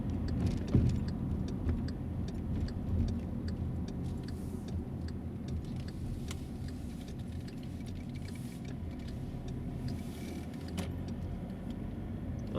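A car driving and turning left on a road during driver training, steady low engine and road rumble from inside the cabin with faint ticking, no talk.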